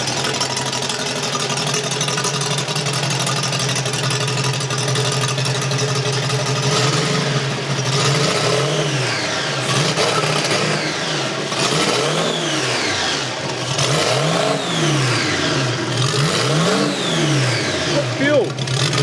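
A custom 1920s-style motorcycle with a two-stroke engine runs loudly nearby, its steady drone rising and falling through repeated throttle revs, while someone talks over it throughout.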